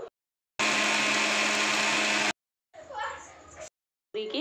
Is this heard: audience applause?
no